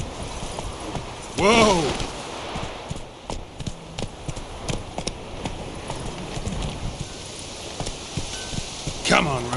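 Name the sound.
horse Roach galloping hoofbeats, The Witcher 3 video game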